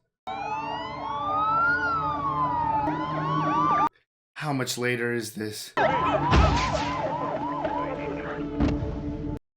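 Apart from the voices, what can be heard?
sirens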